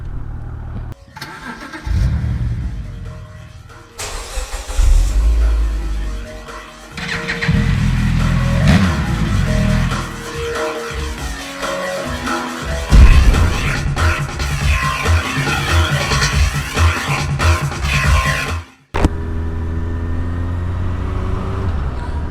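A motorcycle engine starts and revs repeatedly, rising and falling as it accelerates on the road, loud and close throughout with a brief cut near the end.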